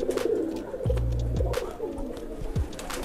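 Pigeons courting in a coop give deep, close coos, a few low rolling calls repeated over a couple of seconds with faint background noise.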